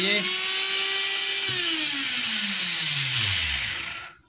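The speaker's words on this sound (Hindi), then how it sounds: "ये मिनी गियर मोटर लगा है, एक छोटा सा गियर मोटर लगा है जो कि इस चैनल को आगे पीछे करता है" A small homemade wood-cutting machine with a mini gear motor runs with a steady high-pitched whine, close and loud, then its pitch sags as it winds down and stops near the end.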